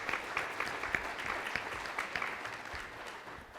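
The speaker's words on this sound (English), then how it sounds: "Let's give a round of applause to Lisa, Brad, Tony, and Carrie" A room of community meeting attendees giving a steady round of applause, dense even clapping throughout at moderate loudness, no voices on top.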